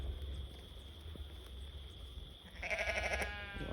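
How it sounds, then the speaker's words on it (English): Sheep bleating on a farm with a mixed flock of ewes and rams, a steady low rumble underneath and a clear, fairly close bleat rising near the end. "Those are some sheep."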